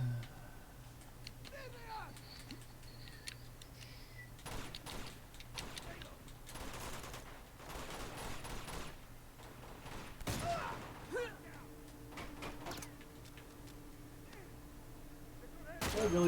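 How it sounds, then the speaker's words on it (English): Scattered gunshots crack through a firefight in Uncharted 2: Among Thieves, irregular bursts and single shots spread over a steady low rumble, moderately distant, with a louder volley near the middle and a voice now and then. "Did I really just shoot that man between his legs?"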